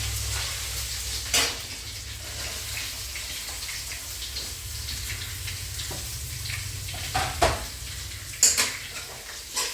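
Onions frying in a pan for a pepper chicken dish, a soft continuous sizzle with occasional stirring clinks and scrapes of a utensil against the pan, close and fairly quiet with no talking.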